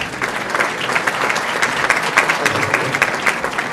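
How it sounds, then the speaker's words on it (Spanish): Audience applause welcoming a guest speaker onto the stage at a retail industry conference, a dense, steady wash of many hands clapping alone with no talk. "lo recibimos con un aplauso"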